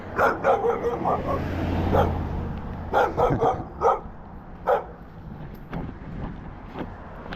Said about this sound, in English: The doggy's mad at me.